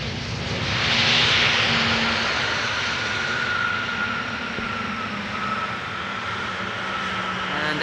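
A Boeing 747 jet at Amsterdam Schiphol Airport, a loud sustained engine roar with a whining high tone that swells early, then holds as a steady rumbling drone.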